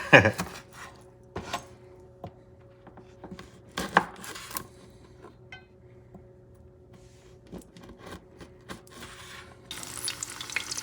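A knife slicing hard, cured chorizo into rounds on a board for a potato and egg breakfast dish, giving scattered sharp taps and cuts, some close and louder, over a low steady background hum.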